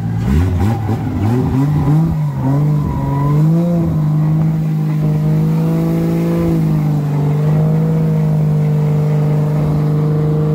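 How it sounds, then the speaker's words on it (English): A BMW E90 drift car engine revs hard and loud up close, rising and holding at high revs for several seconds at a wet drift event at Baypark, with a brief voice near the start. "Give it some revs"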